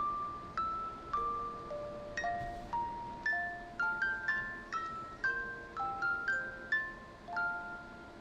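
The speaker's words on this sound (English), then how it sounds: "That's a music box, obviously." A music box plinks out a slow tune of single metallic notes, each one ringing and fading, steady and fairly soft with no voices.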